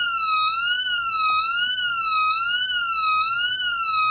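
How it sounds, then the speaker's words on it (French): A small 5-volt Arduino Nano RFID alarm siren with a PIR sensor wails in a steady, loud electronic warble that rises and falls continuously, with no voices. "Voilà, là, c'est la sirène de ton."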